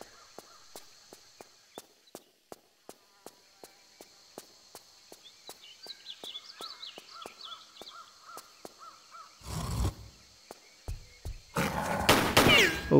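Gunfire in Tomb Raider 3 Remastered, a steady run of sharp, evenly spaced shots that keep cracking through a dark level, with louder bursts of creature growls and thrashing near the end.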